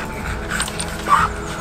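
A dog whimpers and pants close by, with soft breathy panting and a brief high whine near the end, over a low background hum.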